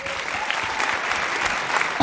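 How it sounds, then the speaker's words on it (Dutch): Dense applause from a gala audience at a Miss Fashion awards ceremony greets a contestant, loud and steady throughout, with a voice cutting in at the very end. "uw applaus voor Amber van Geert"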